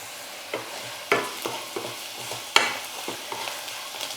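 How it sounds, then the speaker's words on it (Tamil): Onions and spices sautéing in a pan for idli upma, a low sizzle punctuated by sharp, irregular spatula taps and scrapes against the pan, close and clear with no talking. "பாருங்கள், வெங்காயம் எல்லாம் நல்லா வதங்கிடுச்சு"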